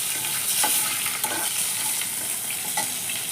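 Green chilies and a bay leaf sizzle in hot oil as a tempering for a thin katla fish curry, a loud, continuous close-up hiss with faint stirring ticks and no talk.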